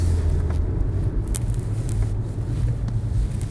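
BMW F90 M5 sedan on a Stage 2 Evolve ECU tune, driving on a wet road: a steady low engine drone with road rumble and faint tyre hiss, heard from inside the cabin with no voices.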